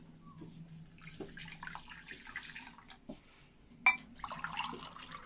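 Lukewarm water pours and trickles over herbs in a container in uneven splashes, quiet and close, with a few drips and a brief louder splash.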